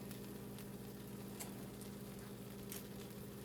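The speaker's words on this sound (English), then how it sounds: "can you hear the sizzle?" Mozzarella cooking in a chaffle maker gives a faint, steady sizzle with soft crackling pops, a low continuous frying hiss with no talking.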